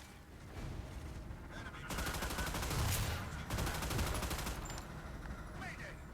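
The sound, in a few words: ship gunfire in Battleship video game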